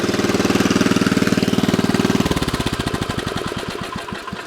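A Lickity log splitter's small engine runs close and loud, a steady low idle chugging at first, then shifting into a faster, sharper pulsing rhythm partway through, with no voices.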